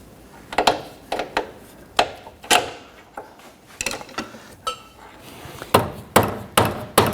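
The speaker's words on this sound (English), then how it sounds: "We're just going to tap our control arm around a little bit to get this bolt to line up in there." A hammer taps repeatedly on the front lower control arm of a 1992-1996 Toyota Camry, working it over so a bolt lines up. The sharp metallic knocks come in irregular bursts, close and fairly loud, with no one talking.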